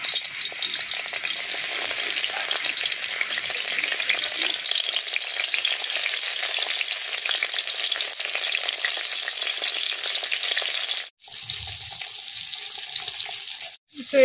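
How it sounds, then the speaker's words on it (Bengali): Okra (bhindi) frying in hot oil in a wok, with a loud, steady sizzle that holds nearly throughout and then breaks off briefly near the end, and no voices. "তেলটা যেহেতু গরম হয়ে গেছে, এবার একটা একটা করে ভেন্ডি ওই গরম তেলে ছেড়ে দেব।"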